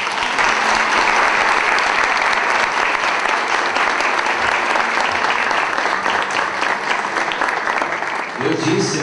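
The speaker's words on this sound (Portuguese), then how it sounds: "Dê uma salva de palmas para Jesus." Church congregation at a worship service honoring a pastor claps loudly for Jesus, a dense, close, sustained round of applause filling the room, with a voice briefly breaking in as the clapping eases at the end.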